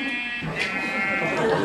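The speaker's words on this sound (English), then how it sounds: "Push this sheep." Sheep in Minecraft giving a drawn-out, buzzy bleat that carries steadily through the moment at moderate loudness, with no speech over it.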